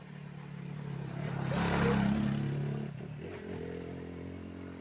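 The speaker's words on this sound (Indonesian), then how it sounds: "Nah, ini ada suara motor lagi." A motorcycle passes along a road through an oil palm plantation, its engine droning louder as it nears, peaking midway, then fading, with no talk.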